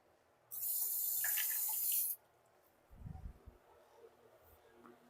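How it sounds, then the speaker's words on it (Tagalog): Tap water runs in a strong, even stream into a cooking pot for paksiw na bangus for about a second and a half, then stops, followed by a few low clunks of the pot being handled. "Lalagyan ko na ng tubig to."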